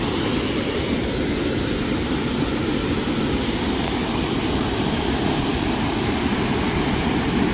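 Water rushes steadily through a drain beside limestone rock outdoors, a loud, constant, dense roar with no let-up and no voices.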